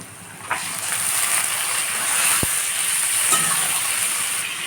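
Chopped onion and goat meat sizzle in a cooking pot, a steady close hiss with a high-pitched tone running through it and a soft clunk partway in.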